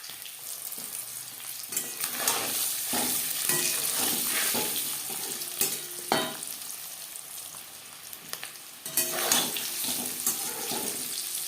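Eggs crackle and sizzle in hot oil, a steady bubbling hiss with occasional sharper pops and spatters close by, no talking.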